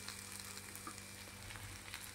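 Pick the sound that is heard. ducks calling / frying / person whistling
frying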